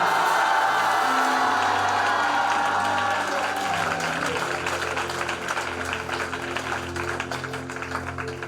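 A church congregation at a French-language night prayer service cheers and applauds the Lord, a steady wash of clapping and whoops from a large crowd with music underneath that gradually eases off.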